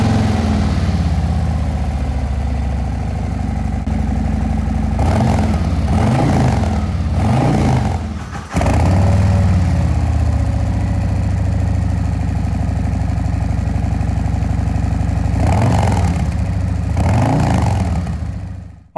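Harley-Davidson motorcycle idling through an exhaust fitted with a Khrome Werks baffle insert, a steady loud low rumble with a few brief blips of revving, close to the pipe with no talk.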